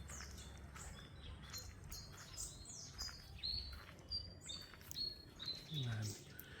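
Birds chirp and trill from banana plants on a farm, several overlapping high calls, some close and clear, above a steady low hum of outdoor ambience.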